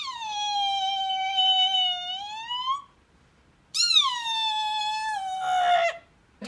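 Someone vocally imitates a deer call with two long, high, nasal bleats separated by a short pause, the second starting sharply and sliding down before breaking off, loud and close.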